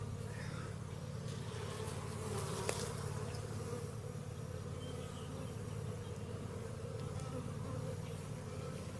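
A dense, steady insect drone fills the whole stretch, like many bees buzzing close by, with a brief faint knock partway through.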